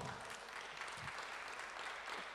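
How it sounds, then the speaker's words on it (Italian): Faint applause from an audience at a tourism trade conference, a soft continuous patter of clapping with no voices. "Un applauso."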